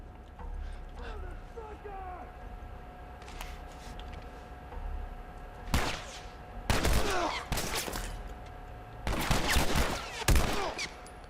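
Gunfire in The Last of Us Part 1 arrives in sharp loud bursts from about the six-second mark, after a quieter stretch of ambient game sound and faint voices.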